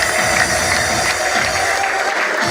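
A congregation at a church worship service claps loudly and continuously, a dense wash of hands filling the space with crowd noise beneath it and no distinct voice on top.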